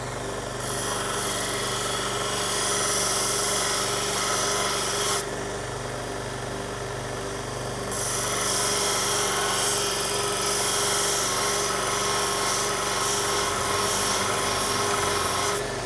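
A belt grinder sharpening a knife, giving a steady, loud rasping grind that eases off briefly partway through and then resumes at full strength, with no voices.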